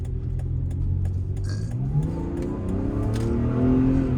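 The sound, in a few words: 2008 Volvo SUV accelerating hard with violent downshift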